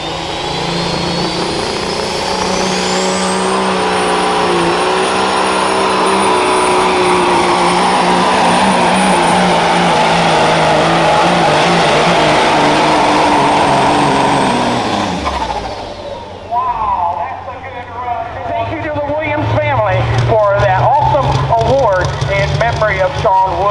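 2018 Peterbilt pulling truck with a Cummins KT 1150 engine at a county fair truck and tractor pull, a loud, sustained roaring engine wail rising in pitch, then cutting off into rough idling and revving with an announcer talking over it.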